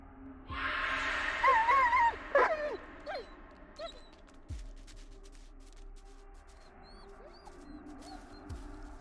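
Dog whimpering in the horror video game Blair Witch: a run of high, wavering whines and yelps at first, then quieter scattered whimpers over a dark ambient background.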